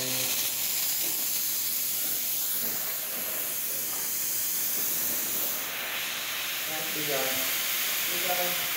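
The steam wand on a La Pavoni hand-pump espresso machine gives a loud, steady hiss of steam that holds unbroken throughout, with faint sputtering now and then.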